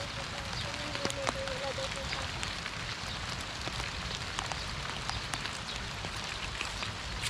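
Steady rain falls in the Philippine province of Bataan, a dense continuous hiss with scattered drips and taps close by, while a voice talks faintly in the background.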